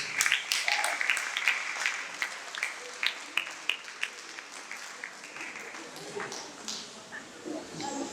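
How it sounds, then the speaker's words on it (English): Audience applause at a breast cancer awareness event for a doctor, Dr. Shonda, who has been on her feet all day; scattered claps rise from the crowd, fairly faint, with voices mixed in. "Please give her a big round of applause."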